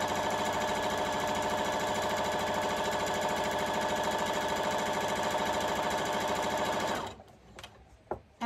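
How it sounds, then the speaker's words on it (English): A sewing machine runs continuously at a fast, even pace, stitching two fabric strips together with a quarter-inch seam, loud and close for about seven seconds before stopping, followed by a few small clicks and handling noises. "we're just gonna sew them both together along one straight edge"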